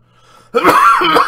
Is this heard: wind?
no